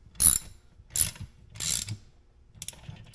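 Ratchet cranking down a bolt on a truck bed winch mount, giving three short, close ratcheting bursts and then a fainter fourth, with no talk.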